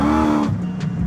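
A supercharged C6 Chevrolet Corvette engine drones loudly from inside the car while driving, a deep harmonic growl that drops off abruptly midway, as if the throttle lifts, then settles into a lower rumble.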